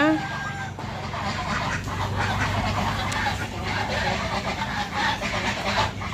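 Ducks, a sizable flock, quack in a busy outdoor scene as people talk nearby over a constant rumbling background.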